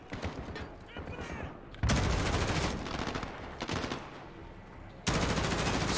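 Automatic weapon fire roars from Call of Duty: Modern Warfare (2019) in a campaign mission. Sustained, loud bursts of rapid shots come close up, with brief lulls before the firing surges again.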